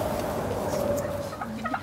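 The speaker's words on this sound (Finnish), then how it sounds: "Oi, näitä kalkkunoita." Turkeys gobble repeatedly outdoors, a flock of fowl with bubbling, warbling calls overlapping near and fairly loud, with faint background noise throughout.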